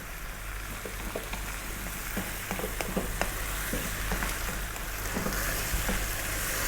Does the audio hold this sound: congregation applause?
no